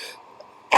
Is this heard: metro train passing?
no